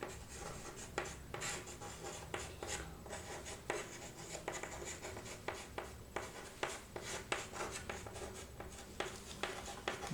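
Handwriting during a Class 9 maths lesson on lines and angles: a steady run of close, scratchy strokes with frequent sharp taps, moderately loud and continuous, with no talking.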